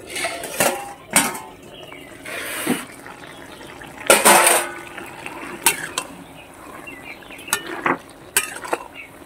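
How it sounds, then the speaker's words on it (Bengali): A metal pot lid is lifted off a pot while prawns cook with Malabar spinach, giving a few sharp clanks and scrapes of metal against metal, fairly close, with some soft stirring noises between them. "এখন ঢাকনাটা খুলে নিচ্ছি"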